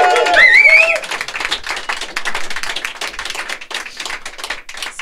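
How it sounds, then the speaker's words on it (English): A studio audience claps and cheers to welcome a musician onto a live music show, a brief whoop at the start giving way to dense, fairly close clapping that continues steadily. "Can we have a big cheer for Amy to welcome?"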